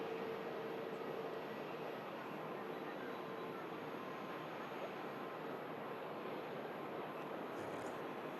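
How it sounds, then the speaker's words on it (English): An EasyJet airliner taxis past at Manchester Airport, giving a steady, broad engine rumble and whoosh that holds at an even level throughout. "Once this EasyJet gets past"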